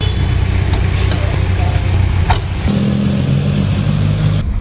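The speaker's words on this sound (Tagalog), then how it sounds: "Ngayon mga paps, dinadrive ko yung 1994 na Toyota Tamaraw FX." A 1994 Toyota Tamaraw FX is driven on the road, its engine droning steadily up close, with a brief knock midway and the engine note shifting lower as it settles before the end.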